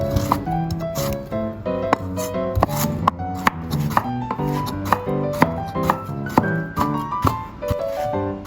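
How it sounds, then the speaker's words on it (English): A knife cuts vegetarian fish into sections, giving a series of crisp chopping thuds in a loose rhythm over soft background music. "You can cut the vegetarian fish into sections according to the amount you want to eat each time"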